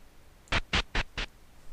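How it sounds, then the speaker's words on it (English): Move sound effect from RPG Maker VX Ace, four quick, evenly spaced scuffing footstep-like scratches in about a second, close and clear with nothing else. "You also want it to play the little move sound effect."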